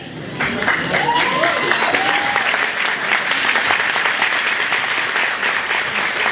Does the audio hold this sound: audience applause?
yes